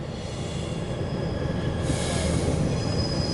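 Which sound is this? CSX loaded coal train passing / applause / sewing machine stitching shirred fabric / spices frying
CSX loaded coal train passing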